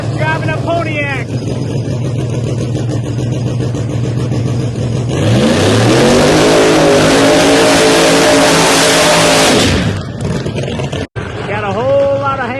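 A ProMod Pontiac drag race car at Bradenton Motorsports Park roars loudly, its engine revving hard in a sustained, rising blast before cutting off abruptly, with track announcer commentary running over it and more engine noise resuming afterward.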